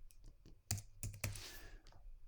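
Close, sharp clicks of a computer keyboard as someone types a year into a spreadsheet tab name: a handful of irregular keystrokes, with a few louder strikes in the middle, over a quiet room.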